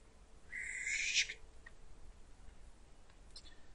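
Birdsong drifts in through an open window on a summer day in a green setting, a bright chirping burst near the start followed by a few faint, scattered calls against quiet room noise.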